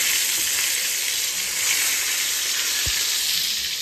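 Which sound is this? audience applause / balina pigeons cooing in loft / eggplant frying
eggplant frying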